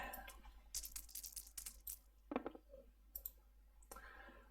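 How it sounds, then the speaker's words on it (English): Dice rolled for a roll-and-write board game, with a quick series of sharp, close clicks and clatters as they tumble and settle on a hard surface, followed by a few scattered taps. "So let me roll my dice."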